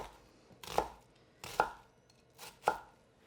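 A knife cuts down through an onion on a cutting board three times, each a crisp, close chop followed by a short pause. The level is quiet and no one speaks.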